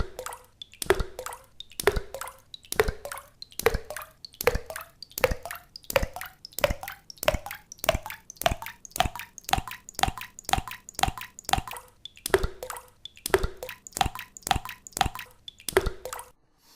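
A looped water recording plays back through Pure Data as a steady run of sharp drips and plops, evenly spaced and close, with no voices.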